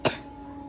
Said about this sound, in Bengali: প্রচণ্ড কাশি।